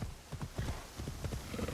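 Horse hooves clip-clop in a steady rhythm over a noisy, hissy background, moderately close, in the video game Assassin's Creed Shadows.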